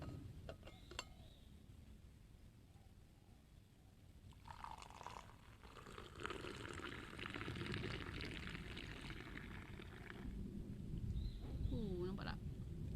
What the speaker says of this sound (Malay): kita letak ni air panas